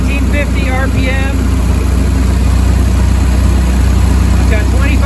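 A Model A Ford engine held steady at 1850 RPM during a timing check, a loud, continuous, even running drone close by, with faint bird chirps over it.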